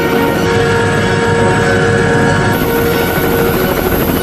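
Loud, sustained roar of a British G-Lynx helicopter, the fastest in the world with blades whirling near the speed of sound, a dense continuous drone with steady high tones throughout.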